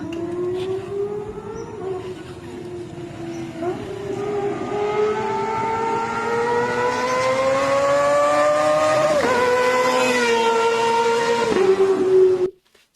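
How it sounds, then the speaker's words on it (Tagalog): An inline-four big bike engine revs hard and climbs in pitch through rising gears, loud and close with a smooth high wail, then cuts off abruptly at the end. "Sarap ng tunog talaga, no? Pag inline 4, ano?"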